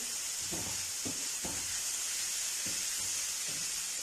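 Chopped green chillies hit softened onions frying in a pan for samosa filling, giving a steady close hiss and sizzle with a few soft thuds of ingredients dropping in, no talking.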